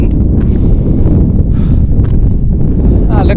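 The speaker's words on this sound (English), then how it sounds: "Now that I'm at the top, of course I'm exposed to the wind." Wind buffets the microphone on an exposed hilltop, a loud, continuous low rumble that stays steady the whole time with no letup.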